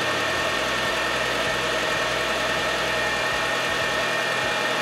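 A 2005 Hyundai Tucson with a newly fitted alternator idles steadily, a close, constant engine drone with a faint rhythmic low pulse and no voices.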